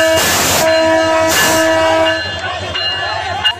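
A passenger train at a level crossing in Brahmanbaria sounds two long, loud horn blasts close by, followed by rumbling and clatter as it slows.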